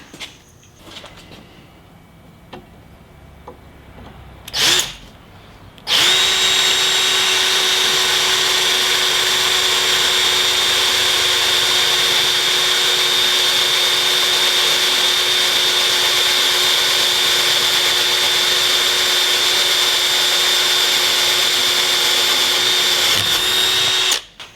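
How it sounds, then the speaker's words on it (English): A Hilti SF 10W A18 cordless drill in second gear bores through quarter-inch steel angle iron, starting after a few quiet seconds with a brief burst, then a loud, sustained, even whine with a steady high tone for about eighteen seconds before stopping. "we're going to drill through some 1/4 inch thick angle iron right here"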